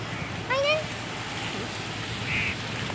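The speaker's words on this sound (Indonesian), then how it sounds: "Hujan." Rain falls steadily at a bus stop, a constant soft hiss broken by a brief chirping sound and a faint squeak from the street.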